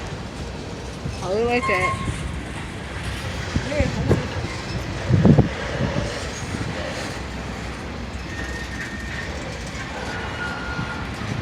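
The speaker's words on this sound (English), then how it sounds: "there's a train right there in front of him" A BNSF freight train rolls past in Irondale, a continuous broad rumble heard from inside a nearby vehicle, with people talking over it.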